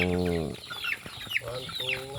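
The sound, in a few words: chickens clucking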